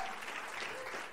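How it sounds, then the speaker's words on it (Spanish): Brief applause from a church congregation at a Christmas dinner, a soft wash of many hands clapping together for about a second. "Dale un aplauso a Dios."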